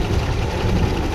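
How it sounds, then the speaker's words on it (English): 1988 Chevrolet Caprice Classic wagon, a barn find running for the first time in 15 years, idling on its own with a steady low rumble, close and continuous without talk. "It's idling on its own."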